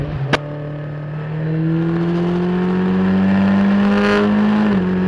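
Skip Barber race cars accelerate hard off a green-flag start at Lime Rock, a loud sustained engine drone rising in pitch after a sharp click near the start, with a brief dip as the cars shift near the end.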